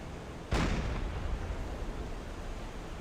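A deck gun on the WWII submarine USS Balao firing in a naval video game, one deep booming shot that lands sharply and then rumbles away into steady background noise.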